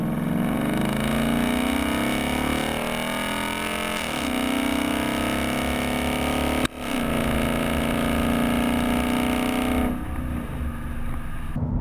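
A 2015-2017 Ford Mustang GT with a Roush axle-back quad-tip exhaust drones loudly and steadily, with revs rising and falling, a brief break midway, then a continued rumble.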